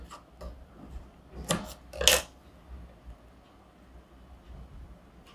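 Scissors trimming along the edges of stitched fabric at a tailoring seam, two short crisp snipping rasps close by against a quiet room, with faint handling rustle between.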